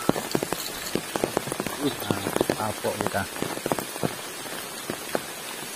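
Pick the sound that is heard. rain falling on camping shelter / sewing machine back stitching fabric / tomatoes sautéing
rain falling on camping shelter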